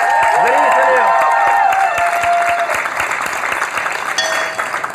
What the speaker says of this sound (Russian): Аплодируем всех зрителей.